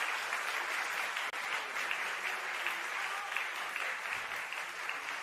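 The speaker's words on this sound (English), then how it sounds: "Applause." Sustained audience applause in an auditorium during gala auditions, a dense even wash of clapping held at a steady level from start to finish, heard alone with no talk over it.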